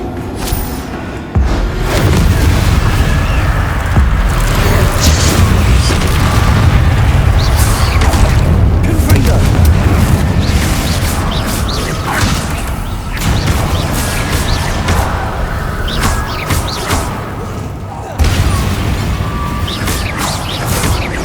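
Loud, continuous booming blasts of fire and ice spells in the Hogwarts Legacy video game, thumping impacts and crashes layered over a steady roar for about twenty seconds, with a sharp burst near the start and another late on.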